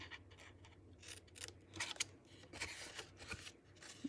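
Scissors snip and trim cardstock for a Halloween treat box, giving soft, quick crisp cuts in an irregular rhythm. They sit close by and quiet, with no talking.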